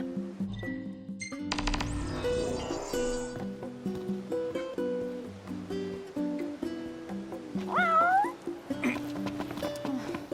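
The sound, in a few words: cat meowing in the video game Final Fantasy XV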